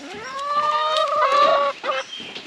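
A chicken clucks and calls loudly up close, a drawn-out warbling cry followed by a few shorter clucks.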